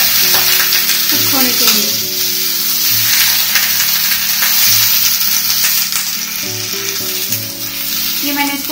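Bhetki fish frying in a pan just after being flipped, a loud, steady hissing sizzle with crackles, while a person talks over it throughout.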